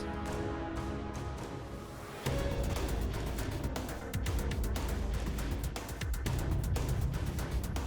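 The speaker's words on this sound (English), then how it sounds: "Now I started adding guitars." Guitars layered into an orchestral music score, dense sustained chords that grow louder and fuller partway through, with rhythmic chugging strokes, no talking.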